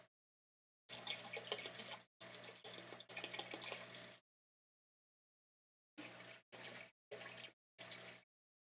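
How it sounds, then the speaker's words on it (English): Water runs from a tap into a jug in bursts, a long steady pour followed by several short spurts with brief silences between, close and fairly loud with no voices. "I'm just gonna fill this jug up."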